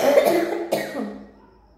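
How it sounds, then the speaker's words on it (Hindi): A person with a cough of several days coughs twice close by, sharp bursts with no talk in between, in an indoor setting. "कुछ हमें 3-4 दिन से थोड़ी खांसी भी आ रही है"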